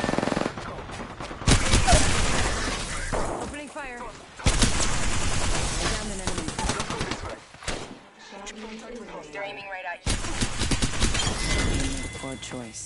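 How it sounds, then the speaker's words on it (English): Rapid bursts of video game gunfire crackle in several loud stretches, broken by short pauses, with a voice talking over the shooting and a steady game soundtrack underneath. "Opening fire."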